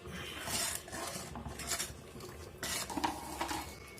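Fenugreek powder stirred into a Kerala fish curry in a pot, soft repeated spoon scrapes and clinks against metal over a faint low simmer, quiet and close.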